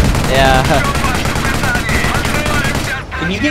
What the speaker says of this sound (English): I'm hitting it with heavy artillery.